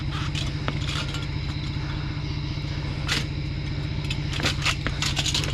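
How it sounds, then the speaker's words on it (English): A Jeep's engine, with its check engine light on, runs loudly and steadily throughout with a deep rumbling drone, and a few sharp metallic clanks and scrapes break through near the end. "Wow, the Jeep is loud."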